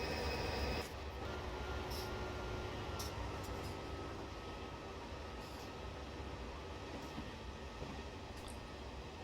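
A New Jersey Transit train in a train simulator game rumbles steadily through a rail yard, with continuous wheel and track noise, faint clanks and occasional squeals, fairly quiet and without talk.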